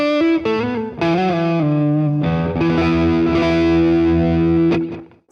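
Electric guitar with 13-gauge strings through heavy distortion, played loud and close: a few short picked notes, then a full chord ringing out and sustaining with a slight reverb tail before stopping abruptly.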